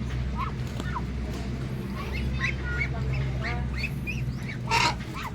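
Muscovy ducks being released into a new pen, giving scattered soft honks and hissy calls over a steady low background hum.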